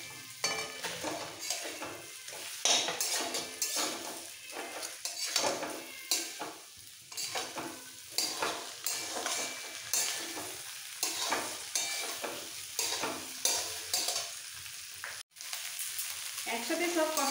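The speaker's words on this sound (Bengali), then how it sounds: "আলু চাল দুটোই ভালো করে কষানো হয়ে গেছে, কষাতে কষাতে সুন্দর ভাজা হয়ে গেছে। এবার দিয়ে দেবো মাছগুলো।" Potatoes, rice and fish pieces sauté together in a pan for murighonto, a continuous sizzle with rhythmic scraping stirs throughout and one sharp clack near the end, close up without speech.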